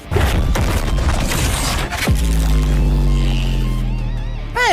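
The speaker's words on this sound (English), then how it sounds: "Goku would create a spear of energy and then throw it into the sea in front of them, causing an explosion." An energy spear thrown into the sea sets off a loud booming explosion with crackling debris, then a sustained roaring rumble and a ringing tone that fades.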